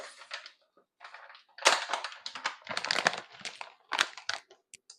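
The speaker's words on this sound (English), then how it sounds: "Step two, we open up our SeaMoss." A package of dried sea moss is torn and handled, giving bursts of crinkly, crackling plastic rustle in uneven clusters with short pauses, close to the listener.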